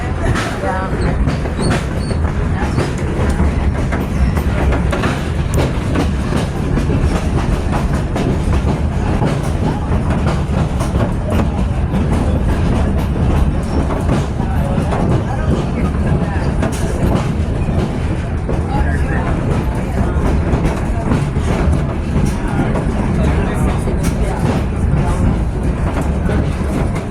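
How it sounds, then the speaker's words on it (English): A 1922 Baldwin steam locomotive, number 70, hauls a train toward Mount Rainier, heard from aboard as a loud continuous rumble with rhythmic wheel clatter and rail noise throughout. "Our star locomotive today is our 102-year-old number 70. Originally built in 1922 by Baldwin"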